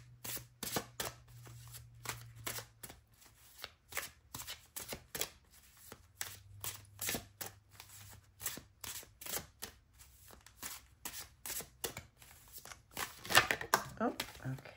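Tarot cards shuffled by hand in a long run of crisp, rapid riffling flutters with brief pauses, close and clear, ending in a louder burst of handling near the end; a faint low hum sits underneath.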